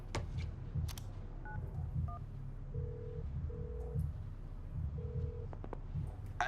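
Phone dialing in the FIFA 19 video game: several short keypad beeps, then a few repeated ringback tones, heard faintly over a low background hum.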